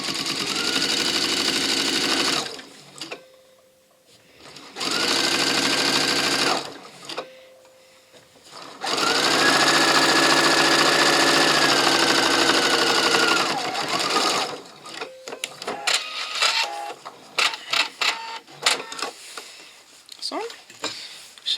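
A sewing machine stitches a seam on a zippered toiletry pouch in several loud, steady whirring runs separated by pauses, followed by short bursts and handling clatter, with talk heard between the runs.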